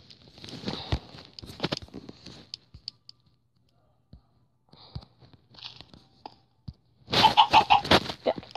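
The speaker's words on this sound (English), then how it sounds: "Okay, now this is a chickadee family." Small birds in a video game chirp and cluck in quick bursts, scattered early on and then a busy, louder cluster of repeated calls near the end, with quiet gaps between.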